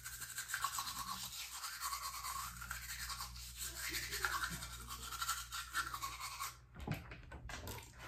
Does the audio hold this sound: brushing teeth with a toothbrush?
yes